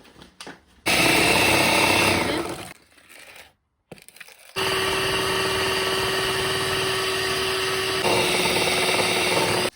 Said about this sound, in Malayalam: 4 സ്പൂൺ ഷുഗർ ഇട്ടിട്ട് അതിനെ വീണ്ടും ബീറ്റ് ചെയ്യണം നമ്മൾ